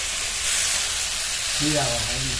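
Tomatoes frying in a pan for a tomato garlic mash, giving a loud, steady sizzle throughout, with a voice starting to talk over it partway through.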